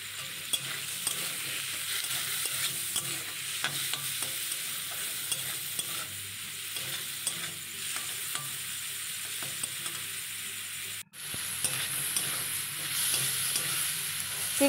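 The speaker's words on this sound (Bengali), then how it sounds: "চিংড়িগুলো একটু ভেজে নিতে হবে, এইভাবে চিংড়ির জলটা শুকিয়ে যাবে সেইভাবে ভেজে নিতে হবে।" Shrimp fry in a wok with salt and turmeric, a continuous sizzle of oil broken by repeated scraping and stirring strokes, close and steady, with one brief gap near the end.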